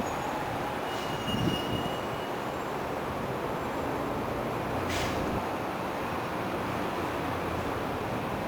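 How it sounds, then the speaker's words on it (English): Train rumbling at a train museum, a steady loud broadband roar with a brief squeal near the start and another thin high screech midway, heard up close without talk. "It's been a long time since the last time I've seen a train in person."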